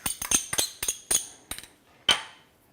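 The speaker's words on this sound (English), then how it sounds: "So now what I'm going to do is mix up all of this." A spoon clinks against a bowl while guacamole is mixed with avocados and minced garlic: a close, irregular run of about eight sharp clicks and taps, then a pause before one last clink.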